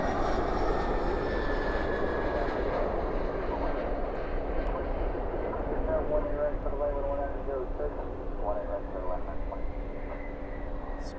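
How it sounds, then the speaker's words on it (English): An Airbus A321 jet landing on a runway at night with spoilers up and thrust reversers deployed, a loud sustained broadband roar with steady engine tones that holds throughout, with faint talk in the background. "Spoilers up, reversers out. As it slows itself down on runway 18 right."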